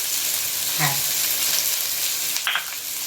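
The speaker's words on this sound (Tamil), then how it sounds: "எனக்கு எல்லாத்தையும் சேர்த்து கொஞ்ச நேரம் வதக்கி விட்டோம்" Crushed garlic and turmeric sautéing in a pan, a loud steady sizzle up close with a couple of brief stirring scrapes.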